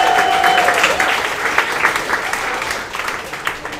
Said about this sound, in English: big round of applause for all the other readers